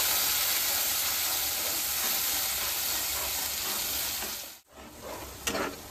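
Spice paste frying in a pan on low gas with a little water added, giving a steady broad sizzle that cuts out abruptly, then returns with a brief burst of hissing steam.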